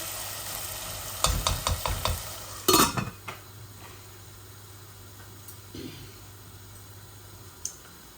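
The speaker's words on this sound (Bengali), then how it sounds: "এই যে আমার আলুগুলা পালা করে ভাজা হয়ে যাক" Steady sizzling of potatoes frying in a pan, with a burst of stirring clatter and scraping early on, then quieter sizzle with occasional clicks.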